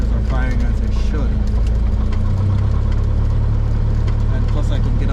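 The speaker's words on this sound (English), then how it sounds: "So I can rev up the engine and make sure all cylinders are firing as they should." A Cessna 172's engine drones and rises in pitch during a pre-flight run-up, heard loud and steady from inside the cabin with a voice speaking over it.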